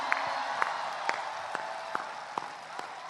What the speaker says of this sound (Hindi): मैं चाहूंगी आप सब जोरदार तालियों से उनका स्वागत करें